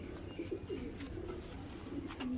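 Pigeons kept by a fancier coo repeatedly in a steady, soft rhythm, close by and continuous over a low background hum with no talking.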